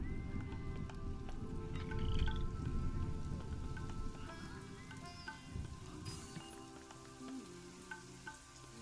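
Rain weather in the Planet Zoo video game, a soft dense patter of drops with scattered sharper drips and faint ambient tones, fairly quiet and continuous, no one speaking.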